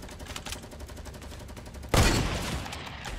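Fortnite firefight between teams, with rapid bursts of gunfire crackling repeatedly, then a louder, denser volley of shots and impacts erupting near the end.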